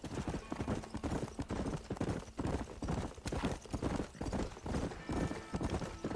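Galloping horse hooves in Red Dead Redemption pound in a fast, steady rhythmic beat, loud and close, continuing throughout with a faint background of other game sound.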